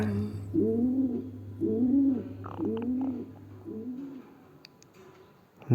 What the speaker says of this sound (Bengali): পায়রার যে আওয়াজ সেটা শোনা যাচ্ছে